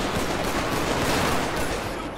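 Dense, continuous gunfire in the GTA 5 video game, a loud unbroken barrage of rapid shots filling the whole moment with no gaps.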